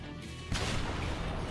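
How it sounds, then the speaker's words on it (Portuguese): Detonation Orb explosion skill in the Jujutsu Awakening Minecraft addon: a sudden loud blast bursts in after a brief quiet moment, then a broad roaring crackle sustains to the end, with no speech. "É mais explosão, né? Obviamente."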